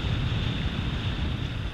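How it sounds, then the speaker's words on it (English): Ocean waves break over sandbars at a surf beach full of white water, giving a steady, loud roar of surf with rumbling low wash and some wind noise, unbroken from start to end. "You can see how this wave is breaking"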